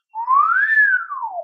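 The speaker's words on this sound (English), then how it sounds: "The way that you can whistle all the notes with just your one mouth" A single rising-then-falling whistled note, clear and close, climbing smoothly to a peak before gliding back down, heard alone without talk.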